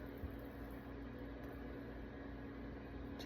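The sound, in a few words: stand mixer running on low speed with paddle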